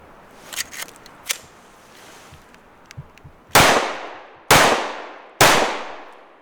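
Three loud, sharp pistol gunshots ring out from an S&W Carry Comp or Walther PDP, each with a ringing decay, following a stretch of quieter handling clicks and clanks.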